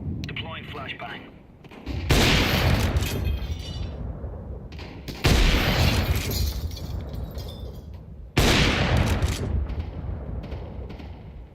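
Grenade blasts and gunfire from a first-person shooter video game: three heavy, loud explosions a few seconds apart, each striking suddenly and rumbling off into a decaying roar.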